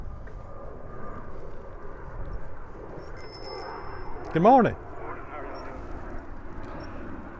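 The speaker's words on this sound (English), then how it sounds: "Unfortunately, I hear a jet coming over." A jet passes high over Topsail Hill Preserve State Park during an e-bike ride, a distant, soft rumble under a brief spoken greeting and a sharp bell ding.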